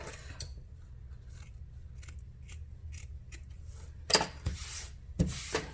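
Scissors snipping through a handmade junk journal tassel, a few quiet cuts and rustles followed by two sharper, louder snips near the end, close by with no talking.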